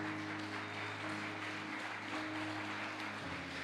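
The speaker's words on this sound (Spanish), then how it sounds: "Dele un aplauso al Señor de la obra." A church congregation gives a faint round of applause, clapping blended with a steady hum and sustained organ-like tones in the background.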